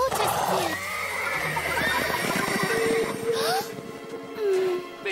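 A red horse in an animated children's series lets out a loud, wavering whinny, with hoof clip-clops and a second, shorter neigh near the end.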